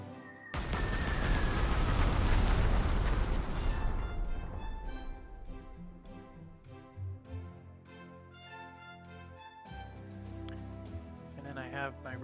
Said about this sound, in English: Regular artillery.